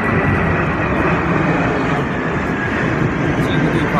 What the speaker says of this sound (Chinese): 大家可以听到这个飞机明显是下降的这个速度，声音非常大。